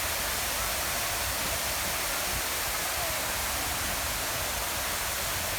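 A waterfall in Suan Rot Fai park pours in a steady, dense rushing hiss that stays constant and fills the scene without a break.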